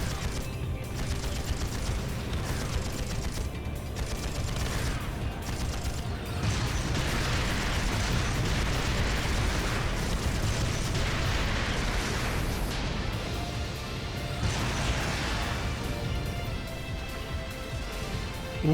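Tanks rumble and fire in the video game Trails of Cold Steel, with dense, continuous mechanical grinding and booming blasts forming a loud, unbroken wall of battle noise.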